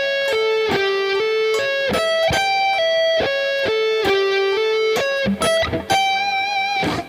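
A guitar plays a sweep arpeggio with a minor seventh across three strings, bright picked notes repeating in a quick, even cycle of rising and falling tones, close and clear with no talking.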